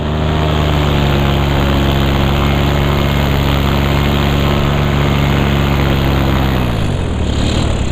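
A paramotor engine drones loud and steady in flight over Fréjus, a dense motorcycle-like buzz with strong harmonic tones that dip in pitch as the throttle eases near the end, no voices.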